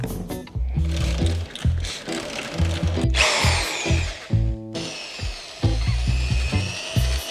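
An old corded drill spins a toilet brush in repeated short bursts, its motor whining up and down between brief pauses, with scrubbing and clattering between runs.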